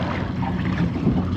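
Offshore fishing boat trolling at about 5 knots off Southern California, a steady rumbling hull-and-engine drone mixed with wind buffeting on the microphone, constant and close without speech.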